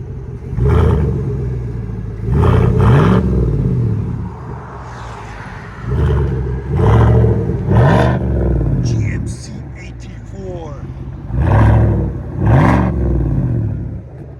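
A straight-piped 2023 GMC Yukon AT4 with the 5.3L V8 revs in repeated paired throttle blips, each a deep, loud exhaust roar that swells and drops back to a rumbling idle between bursts.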